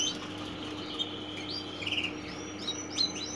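Small birds chirp in short, high, thin tweets inside an aviary where chicks have just hatched and are being fed, scattered faint calls over a quiet steady background hum.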